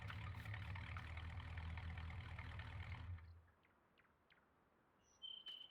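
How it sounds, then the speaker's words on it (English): A truck engine idles in Farming Simulator 19 with a steady low rumble that cuts off about halfway through, leaving near silence broken only by faint game ambience and a short high tone. "Crap, I left the truck running, didn't I?"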